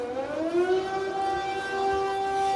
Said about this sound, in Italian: Queste qua sono le sirene.